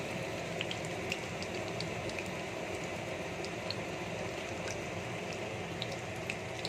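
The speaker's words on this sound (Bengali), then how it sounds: "আজকে আমি সর্ষের তেলে এটা ভাজছি" Hot mustard oil sizzles and bubbles steadily with small crackling pops scattered throughout as batter-dipped bok flowers fry, a continuous frying sound with no one talking.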